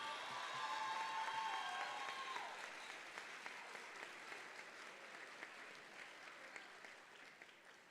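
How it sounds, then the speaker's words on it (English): Audience applause fills a hall at a university convocation ceremony, a dense sustained wash of many hands clapping that slowly tapers, heard at a distance and fairly faint. "Let's give them a round of applause"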